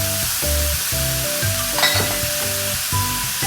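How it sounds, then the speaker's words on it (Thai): Pork blood, tofu and bean sprouts stir-fry in a hot wok with minced pork, a close, steady sizzle broken by rhythmic scraping and tossing, with tonal music playing underneath. "ผัดไปเรื่อยๆ จนเลือดหมูและเต้าหู้เริ่มเกรียม ใส่ถั่วงอกที่ล้างและวางพักไว้ให้เสด็จน้ำลงไปในกระทะ"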